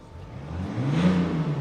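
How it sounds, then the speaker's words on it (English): A BMW X5 M50d's 3-litre diesel engine revs up, its note rising and swelling loudly from a steady drone to a peak before holding strong, with no one talking. "It sounds brilliant because this is not just a normal 3-litre diesel engine, it's an M50D"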